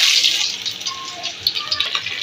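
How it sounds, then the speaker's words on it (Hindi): Water gushes and splashes steadily as it is poured into a pot of oil-fried spices for a rice dish, a close, continuous broadband rush with brief spatters near the end. "मसाले हमने कड़कड़ा लिए हैं, अब इसमें पानी डाल देंगे।"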